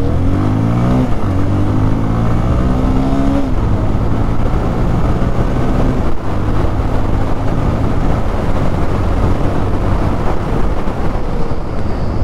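A Bajaj Pulsar 220F motorcycle engine revs up through the gears, its droning note climbing and then dropping at each shift. The sound is loud and close, with no talk over it.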